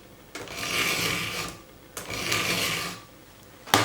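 Steady rasping strokes of a file sharpening a badly damaged chainsaw chain, two long passes with a short pause between, close and fairly quiet with no talking.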